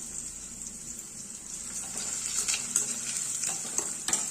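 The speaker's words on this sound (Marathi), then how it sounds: "सो कांदा इथे आपल्याला थोडस सॉफ्ट करून घ्यायचा आहे" Onion, cumin seeds and curry leaves fry in a pan with a bright, constant sizzle, and a spoon now and then scrapes and clinks against the metal, growing busier toward the end.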